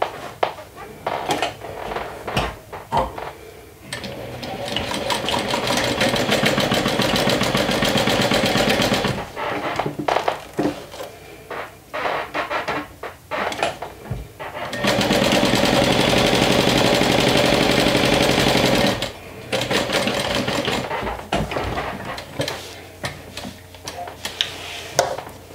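Sewing machine stitching a fold-over clutch bag, running in sustained bursts of steady rapid needle chatter separated by brief pauses, with clicks and handling noises between runs.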